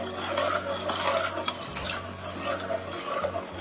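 Wheat starch is stirred into boiling water for Maharashtrian kurdai, a steady bubbling, sloshing churn with faint scraping that carries on continuously at close range.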